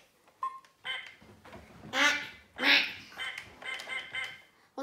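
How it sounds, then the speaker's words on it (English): A duck quacks several times in a row, with loud, nasal quacks separated by short pauses, close by and otherwise quiet. "A duck."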